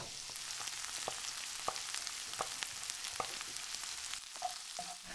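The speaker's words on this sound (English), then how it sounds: "And I'm cooking down the chorizo and the smell coming off this is delicious and it's releasing all its oil" Chorizo frying in a pan with garlic, cumin and chilli, a steady close sizzle with scattered sharp crackles and pops throughout, no talking.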